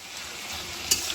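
Hilsa fish head and roe sizzle briskly in hot oil with green chillies, a close, steady crackle of frying with one brief stir or clink near the end.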